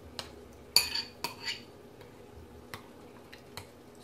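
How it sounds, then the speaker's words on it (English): Someone stirs a paste mixed with water in a pot, making a series of light metallic clinks and taps of a utensil against the rim and sides, spaced irregularly with soft wet scraping between them. "Okay, then I'm just going to give this a stir."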